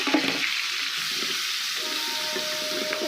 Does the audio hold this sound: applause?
no